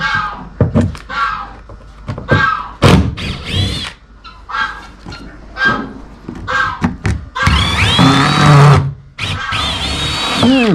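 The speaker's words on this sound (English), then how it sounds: "Next, we need to unscrew all of these sheetrock screws that somebody has put in." A power drill backs out sheetrock screws, some of them stripped, in short bursts of whirring with knocks and handling clatter between, close by, then a longer loud whining run near the end.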